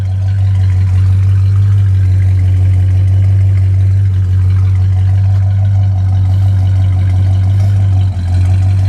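A 1966 Dodge Monaco 500 with a freshly rebuilt 383 four-barrel V8 and RV camshaft idles with a deep, steady low rumble, loud and close, holding an even note for the whole stretch.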